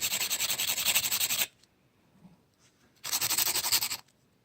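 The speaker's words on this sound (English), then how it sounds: "I have a 180 grit file here, and I'm just going to file a flat spot" A 180 grit file scrapes a beetle in two bursts of rapid back-and-forth rasping strokes, close and loud, separated by a quiet pause.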